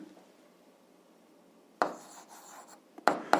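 Chalk or marker strokes on a board during a physics lesson, coming in a short scraping burst after a quiet stretch and then two sharper quick strokes near the end, close by with no talk.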